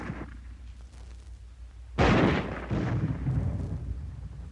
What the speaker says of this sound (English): At ranges up to 200 yards, armor-piercing ammunition can smash through this kind of wall any time